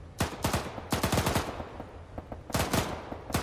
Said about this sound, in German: Schießt ein bisschen kurz, jetzt hast du ihn getroffen.